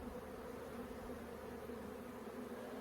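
Honey bees hum steadily around an open backyard hive during an inspection, a continuous close drone with no talk over it.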